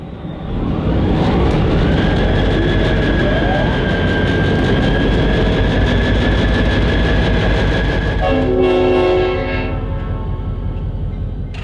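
Clinchfield Railroad 800, a 72-year-old vintage cab unit diesel locomotive, hauls a freight train with a loud, close engine roar, then sounds a horn blast near the end before the rumble eases.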